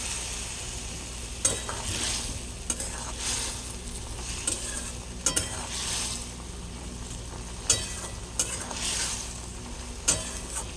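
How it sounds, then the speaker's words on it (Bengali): Pieces of gathi kochu (taro) deep-frying in hot oil give a steady, close sizzle, with occasional sharp clinks and scrapes of a utensil stirring the pan, and no talk. "যখন আমি ডুবো তেলে ভাজি"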